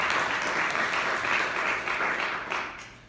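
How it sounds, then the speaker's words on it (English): An audience at a town State of Purcellville address gives the council and staff a round of applause, with dense, sustained clapping from start to finish that only thins slightly at the close. "Give them a round of applause for making that happen"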